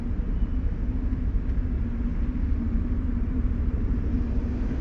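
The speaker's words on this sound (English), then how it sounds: "There's a lorry going down there at the minute." A distant lorry produces a low, steady rumble with a faint engine drone, continuous and unbroken for several seconds with no voices.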